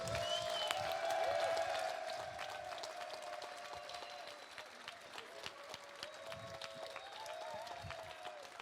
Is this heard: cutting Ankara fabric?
no